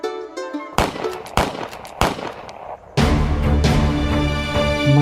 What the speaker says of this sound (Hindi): मैं तो हमारे घर फायरिंग हो रही है